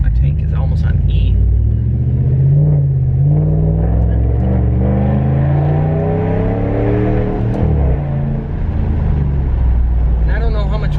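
Deep, steady exhaust rumble from a Dodge with a 5.7L Hemi V8 while cruising, a loud continuous low drone that swells and eases slightly with throttle, heard from inside the car.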